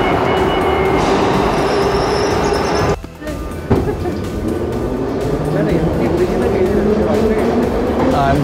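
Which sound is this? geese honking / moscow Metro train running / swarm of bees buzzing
moscow Metro train running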